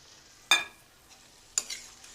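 Carrot halwa with milk being stirred in a pan, two distinct scraping strokes about a second apart, close and fairly quiet with faint sizzle between.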